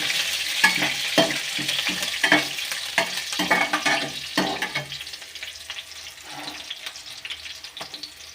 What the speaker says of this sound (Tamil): நல்லா எண்ணெயில் பொரியும் கருவேப்பிலையும்